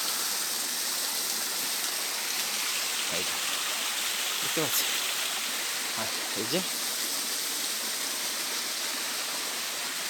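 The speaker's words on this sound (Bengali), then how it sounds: "দেখুন, এই হচ্ছে সেই ঝর্ণা" Steady rushing water from a waterfall near Baklai Para fills the scene throughout, with a few brief voices speaking over the constant roar.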